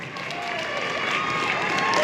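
Audience applause and cheering rise for the university president taking the stage at a live awards event, a steady dense clapping crowd that holds loud and continuous throughout.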